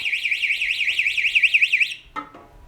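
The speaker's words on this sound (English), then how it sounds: "When the main water squirts on your alarm," Water alarm set off by water squirting on it, a loud rapidly warbling electronic siren that sweeps up and down repeatedly for about two seconds, then stops abruptly, followed by a short clunk.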